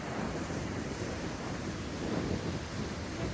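Rough Pacific surf churns and crashes at Thor's Well on the Oregon coast, a steady broadband roar of aggressive water mixed with wind buffeting the microphone, continuous and close with no talking.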